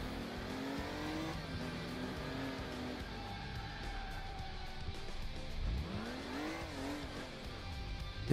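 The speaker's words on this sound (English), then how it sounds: "do the pit maneuver and stop his vehicle" Cars in the game Crash Time during a pit maneuver to stop a vehicle: engines rev and rise and fall in pitch, with tyres squealing and a close, busy roar throughout.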